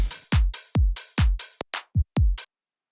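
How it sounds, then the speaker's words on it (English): A punchy electronic dance drum pattern with deep kick thumps and bright snare or hat hits in a steady rhythm, then it stops abruptly. "Let's start off with the drums."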